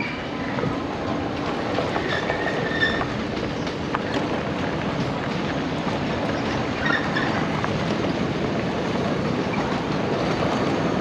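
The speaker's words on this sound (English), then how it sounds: "We were going to race that train." A train rumbles past with steady clickety-clack of wheels on rails and faint squeals, heard continuously and fairly close from alongside the track while riding an electric bike.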